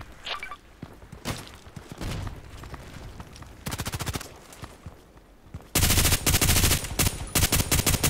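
Machine gun fire in the video game Contract Wars, a few short bursts early on, then long, loud rapid-fire streams of shots that stop and restart, close and dominant, with no talk.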